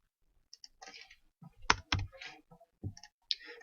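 A computer mouse clicks a few times in irregular bursts, close and crisp, with keyboard-like taps in between and no talking.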